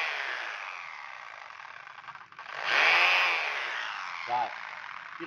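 Cordless rotary hammer chiseling with a chisel bit, giving a continuous harsh rattling grind that swells in the middle, heard close and loud with no talk over it.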